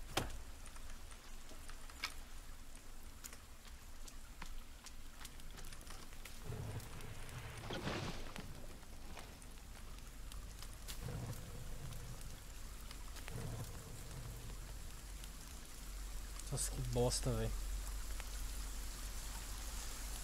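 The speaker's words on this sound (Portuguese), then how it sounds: "Primeira noite no perdido na floresta aqui e começou a chover" Steady rain falls at night in a forest, a constant close patter of drops on leaves and ground through the whole stretch, with a man briefly muttering near the end.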